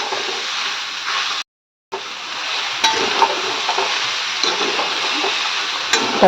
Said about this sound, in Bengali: এটা ভাজা হতে থাক আর আমি ওদিকে বসিয়ে দেবো ভাত